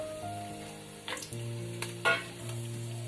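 Cardamom, cloves, marathi moggu, bay leaves, cashews and onions frying in hot oil for chicken biryani, a quiet sizzle with a few sharp stirring clinks and scrapes against the pot.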